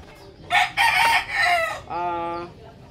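A rooster crows out loud near young chickens around four months old at bath time, a long harmonic call following bursts of clucking and squawking, with no talk.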